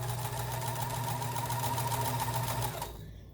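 A Kenmore sewing machine stitches fabric in a steady, continuous mechanical whir with a rapid needle rhythm, loud and close, then winds down and stops near the end.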